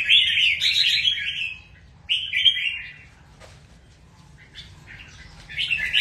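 Pet songbirds chirp in loud, bright bursts, a rapid twittering phrase, a pause, another burst, then fainter scattered notes before a final flurry, over a low steady background hum.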